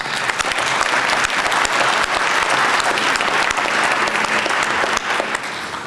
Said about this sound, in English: How about a round of applause for those unsung heroes that we just swore in?